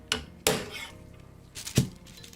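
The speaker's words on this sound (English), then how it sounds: "Light tap with a hammer" A light hammer seats a brass bush in the plate of an antique American Welch kitchen clock, giving a few sharp, close metallic taps spaced irregularly, with a quiet pause between them.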